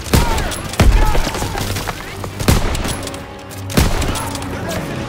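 Gunfire in the World War II shooter Call of Duty: WWII, with loud booming shots recurring every second or two over a steady battle din of rattling weapons and debris.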